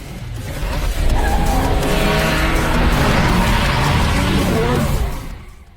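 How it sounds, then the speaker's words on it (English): A home-built Mazda RX-7 with a rare three-rotor engine passes close and loud, its buzzing rotary roar swelling for several seconds and then fading quickly. "he is startled by the sound of an RX-7"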